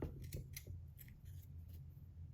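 A few quick snips of scissors cutting thick rug yarn after punch-needle work, close and crisp over a low steady hum, with no talking.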